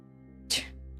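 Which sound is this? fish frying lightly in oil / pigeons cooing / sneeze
sneeze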